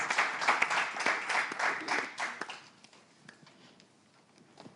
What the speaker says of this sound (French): on va réclamer un peu plus d'applaudissements pour notre prochaine candidate